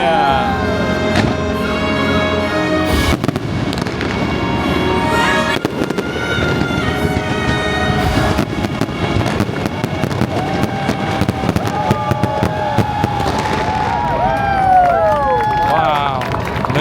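Fireworks exploding during the Luminous The Symphony of Us show at Epcot, Walt Disney World, with loud cracks and booming bursts layered over orchestral show music and a cheering crowd nearby.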